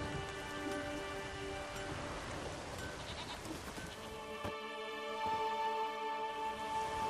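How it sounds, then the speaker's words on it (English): Steady rain patters across a village in The Witcher 3, a continuous even hiss with faint scattered drops and some brief knocks, no voices. "There's no point standing here in the rain."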